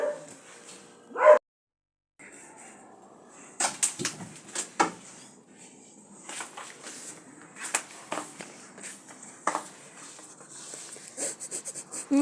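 A dog barks in short, sharp bursts, some close and loud, others quicker yips, scattered irregularly across the clip with a brief silent gap early on.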